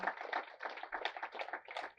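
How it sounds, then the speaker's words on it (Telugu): An outdoor crowd at a rally event applauding the chief guests, a continuous patter of many hands clapping at moderate distance with no voices. "ఈ ముఖ్య అతిథులు అందరికీ మనం గట్టి క్లాప్స్ కొడదాం గట్టిగా"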